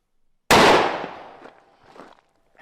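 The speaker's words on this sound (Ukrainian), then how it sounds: "дробовий набій, постріл." A single loud blast from a very short-barreled shotgun goes off up close, its roar decaying over about a second, followed by faint scattered clatter.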